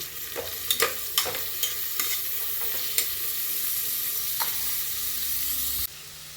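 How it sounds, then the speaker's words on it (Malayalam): Sliced onions sauté in a pan with a continuous sizzle and crackle, punctuated by several quick scraping stirs early on, as they cook for a soy roast; the sizzle drops away abruptly near the end. "ഇനി നമുക്ക് സവാള ഇട്ട് കൊടുക്കാം. നന്നായി വഴറ്റാം."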